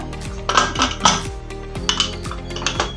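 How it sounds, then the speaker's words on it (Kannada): A metal pressure cooker lid is handled and clanked shut in a home kitchen, with several sharp metallic clinks and scrapes over a steady background hum. "ಒಮ್ಮೆ ಮಿಕ್ಸ್ ಮಾಡಿಕೊಂಡು ಕುಕ್ಕರ್ ಮುಚ್ಚಳ ಹಾಕೊಳ್ಳೋಣ"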